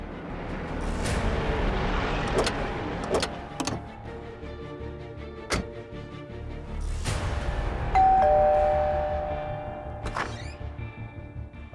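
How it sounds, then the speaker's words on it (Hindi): A doorbell rings indoors with several separate ding-dong chimes spread out over the scene, each clear and bright against a quiet room background. "अभी थोड़ी देर पहले डोरबेल बजी थी"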